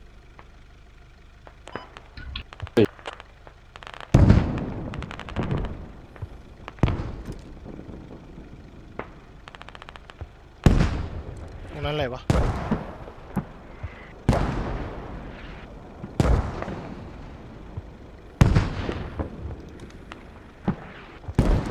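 Repeated booming mortar blasts from combat in the game Squad, several loud explosions spaced a few seconds apart, with voices talking between them.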